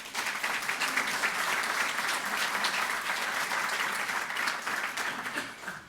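Sustained applause from a seated audience honoring a city hall team at a chamber of commerce mayoral address, steady and dense throughout with no speech over it.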